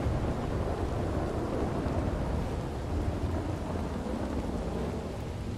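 Steady heavy rain pours with a deep, continuous rumble of thunder underneath during a storm in Red Dead Redemption 2, loud and unbroken throughout.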